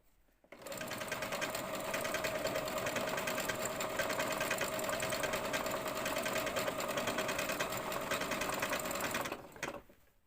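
A sewing machine stitches a child's pocket in one unbroken run of about nine seconds, a fast, loud mechanical whir and rattle that starts and stops cleanly, with no talking.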